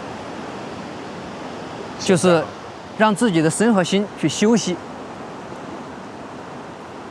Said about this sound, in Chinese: 然后你静静的听着这个溪水的声音